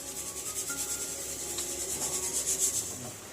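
Soaked tamarind, about lemon-sized, squeezed and rubbed by hand in water in a kitchen, giving a steady soft wet rubbing and squelching close up, with no one talking.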